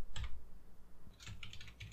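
Typing on a computer keyboard while writing Python code, with a short burst of key clicks followed by a pause and then a faster run of close, quiet taps.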